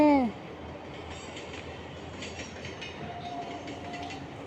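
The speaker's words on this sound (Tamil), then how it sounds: "ட்ரெயின் போகுது பாருங்க, சடக் சடக் சடக் சடக் அப்படின்ட்டு போகுது பார்த்தீங்களா?" A fast passenger train runs steadily past on rails during rainy weather in Bengaluru, its continuous wheel rumble and rail noise sitting close and fairly even throughout, with a faint tonal squeal partway through.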